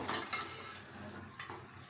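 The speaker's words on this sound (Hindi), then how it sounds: "तो यहाँ पे अब हम हमारे जो चने हैं उबले हुए इन्हें हम डालेंगे" Boiled chickpeas tipped into a pan of frying masala in oil for chole, giving a quiet sizzle with a couple of quick stirring scrapes against the pan.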